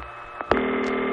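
Vintage telephone on the old phone network: two short clicks or pulses, then a steady tone with layered harmonics that holds to the end, like a dial or network signal, clear and close with no speech.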